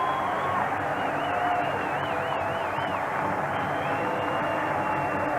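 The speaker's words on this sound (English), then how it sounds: "This time the cheering is for the Canadian game" A large stadium crowd at a Canadian football game at Baltimore's Memorial Stadium roars steadily, a dense continuous wash of cheering with whistles and whoops rising above it.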